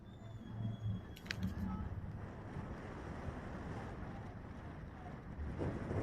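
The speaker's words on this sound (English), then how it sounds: "You see out there, it's too windy right now." Steady, heavy wind rushes and buffets the microphone at an outdoor football match, a broad roaring noise with gusty swells and no voices.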